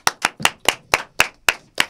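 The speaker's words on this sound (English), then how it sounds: "Can I get an applause? Give it up" A single person clapping eight times in a steady rhythm, close and alone, at a casual studio show opening.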